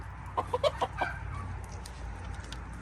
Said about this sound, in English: we have at least 3 roosters in here